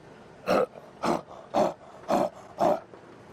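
A human voice imitates a leopard roar: five evenly spaced, rasping grunts about half a second apart, each short and forceful like a saw stroke, close and alone.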